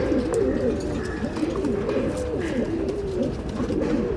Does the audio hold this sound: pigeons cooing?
yes